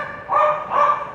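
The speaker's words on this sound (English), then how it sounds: "That's why the dogs are barking." Dogs bark at a rural property where scorpions are found, two loud close barks spaced about half a second apart, with no talk.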